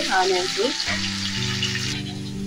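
Onions sizzle and fry in a pan while cooking down for egg curry, a loud close crackle with stirring scrapes and a brief hum of background tones, no speech.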